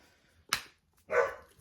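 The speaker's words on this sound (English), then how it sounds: "I'm sorry about the dogs, guys." Dogs bark indoors in the background during a home sewing session, two short barks about half a second apart, moderately near.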